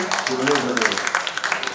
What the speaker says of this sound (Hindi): फाइनली जोरदार तालियां आप सबके लिए